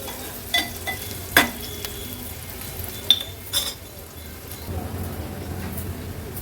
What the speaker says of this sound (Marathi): कांदा आता परतून घेऊया, खूप जास्त शिजवायची पण गरज नाही।